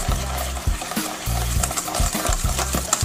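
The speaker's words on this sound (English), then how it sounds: "using a whisk" A whisk stirs beaten egg and Worcestershire sauce in a bowl for crab cakes, with close, repeated scraping strokes in a quick, uneven rhythm.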